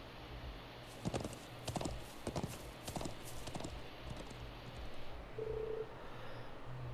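Horse hooves in the Trails of Cold Steel IV video game clop in a steady, moderately paced rhythm, close and fairly quiet over a low background hum, with a brief tonal chirp near the end.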